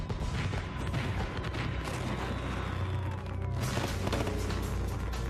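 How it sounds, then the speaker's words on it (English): Thousands of fireworks exploding in a fire, a dense continuous barrage of overlapping bangs and crackles with loud booms throughout, rumbling and chaotic with no pause. "thousands of fireworks explode and spray the surrounding areas"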